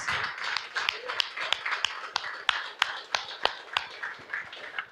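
A church congregation claps in praise during a sermon, with rhythmic, evenly paced claps over a softer, scattered wash of hands, moderately quiet and steady throughout.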